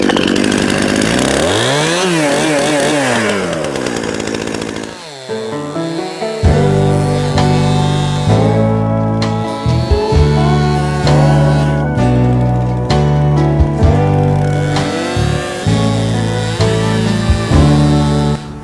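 A chainsaw cuts up an apple tree on a farm, its loud engine revving and bogging as the chain bites into the wood, with short idling dips between cuts, close up and alone.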